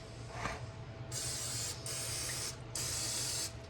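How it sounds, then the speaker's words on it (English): Canola vegetable cooking spray hisses from a can into a muffin pan in three steady bursts of about a second each, close and loud, with short pauses between. "canola vegetable spray, and spray as far as the muffin pan"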